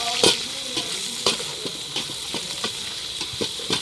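Vegetables being stir-fried in a pan over a home cooking stove, with a steady sizzle broken by repeated scraping clatters of a spatula at an irregular rhythm, close and fairly loud, no talking.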